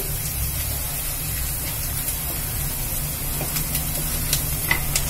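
Chopped onions sautéing in a pan for a green gram gravy give off a steady, even sizzle with a broad hiss that holds at the same level from start to finish.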